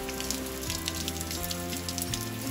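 Steady rain patters on a surface outdoors, a dense, even hiss that runs throughout alongside a faint tonal layer.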